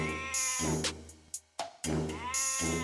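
A goat bleats in a fairy tale scene, two long wavering harmonic cries separated by a brief pause, close and clear with no talk over them.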